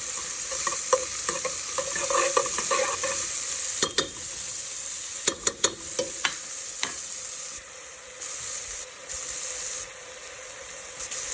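Spices and chickpeas fry in a pan with a steady close sizzle and hiss, broken by a few sharp clicks and knocks of stirring. No one speaks.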